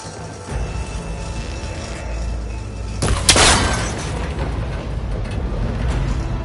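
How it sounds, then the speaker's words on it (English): In Horizon Forbidden West, a cable connector is shot and breaks: a sudden loud crash with a bright, shattering burst rises over a low rumbling game ambience, then settles into a sustained hiss. "That connector's holding the cables together. It should break if I shoot it."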